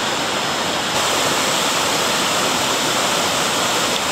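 Krathing Waterfall in Chanthaburi, Thailand roars with a dense, constant rush of falling water, loud and close, filling the whole span without any voices.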